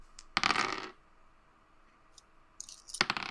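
Dice for a tabletop roleplaying game clatter in a short rattling burst, then a second cluster of clicks and taps follows after a pause, close and fairly quiet.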